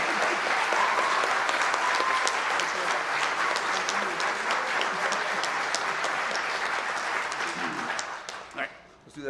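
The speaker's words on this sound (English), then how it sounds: "please join me in giving him an actual round of applause that he can hear for himself." A large audience at a barbershop quartet district finals claps in a sustained, loud round of applause, holding steady for about eight seconds before tapering off at the end.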